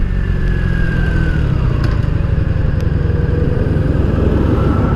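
A 1983 Honda Sabre V45 VF750S motorcycle is ridden, its V4 engine droning loud and continuous with a slight falling pitch as it shifts, and wind roars beneath it. No one speaks.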